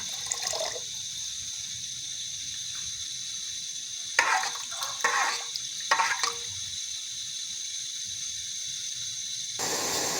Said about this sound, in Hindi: चावलों को हम धो लेंगे।